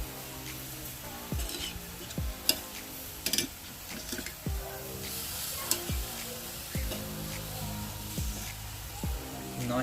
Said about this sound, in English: After 4 minutes, I'm going to give these a turn.